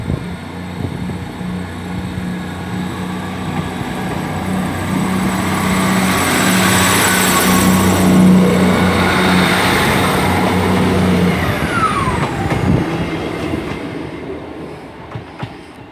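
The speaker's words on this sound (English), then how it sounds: "departing out now is 158 759, which is on the 1449 departure heading for Halifax" Class 158 diesel train 158 759 pulls out of Selby station on a Hull to Halifax service, its engine rumble and wheel noise building loud and close, then fading as it draws away.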